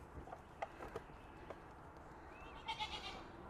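Goats heard faintly at a distance in an outdoor farm setting, with a few short bleats near the end over a quiet background and scattered light knocks and thumps.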